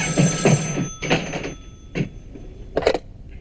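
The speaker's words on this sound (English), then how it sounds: "The phone rings and Jess picks it up" Vintage telephone bell ringing in a quiet house in the 1974 horror film Black Christmas, a few short bright rings separated by pauses, fairly close with no talk.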